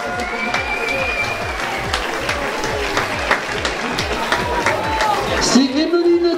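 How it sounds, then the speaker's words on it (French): Spectators at a 10 km road race in Montreuil-Juigné clap steadily as a runner finishes, the applause continuous and close, with an announcer talking over it and crowd chatter behind. "On peut l'applaudir, l'encourager, l'accompagner jusqu'à la ligne."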